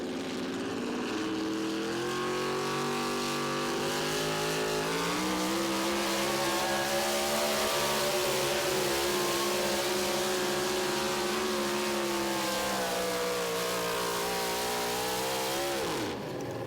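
A pulling truck at a Wisconsin truck pull revs hard and sustains a loud, roaring engine drone, its pitch climbing gradually over several seconds before falling away abruptly at the end.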